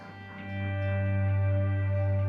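An electric guitar chord swells in slowly through delay and reverb, rising from quiet to a sustained, steady wash of tone with a low hum beneath, no voices.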